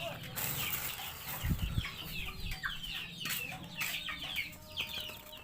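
Free-range village chickens cluck and call busily as they are fed, several birds near and overlapping, with brief wing flaps and soft low handling noise underneath.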